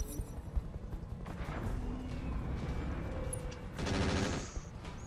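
Machine gun fire in the RogueTech mech video game: rapid bursts of gunfire heard fairly faintly, with rattling impacts across the clip and a louder burst near the end.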